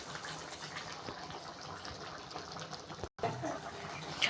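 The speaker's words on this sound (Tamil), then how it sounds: "பாருங்கள், நல்லா கொதிச்சு சுண்டி வருது" Green brinjal thokku kulambu bubbling and reducing in a pot, a steady soft simmering hiss with small pops, continuous and close, broken by one brief pause.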